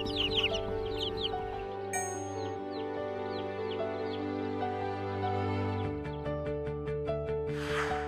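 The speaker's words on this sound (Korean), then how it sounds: "봐봐 이게 닭 됐어" Young backyard chickens cluck and chirp in short bursts, close and clear, over a steady mechanical hum and a brief rustle at the end.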